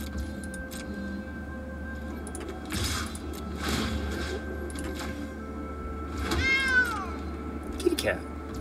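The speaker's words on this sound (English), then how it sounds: "I love my kitty cats." A cat meows close by, several calls scattered through the stretch with a drawn-out wavering meow near the end, heard under a person talking and faint clicking.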